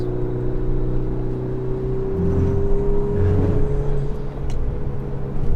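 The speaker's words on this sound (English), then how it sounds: "With beautiful turbo noises." Volkswagen Golf 8 R turbo engine droning steadily from inside the car under throttle, with a sustained low hum and a rising whir as the engine pulls.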